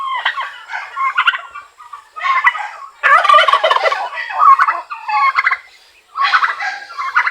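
Turkeys gobble repeatedly on a farm, loud and close, in bursts of rapid warbling calls that overlap and pause briefly, with no talking.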